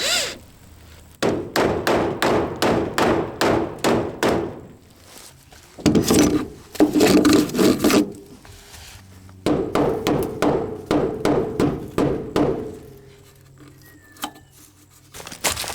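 Wooden trim strips are hammered onto the metal exterior of a salvaged mobile home, with loud, close, rapid hammer blows in several bursts separated by short pauses.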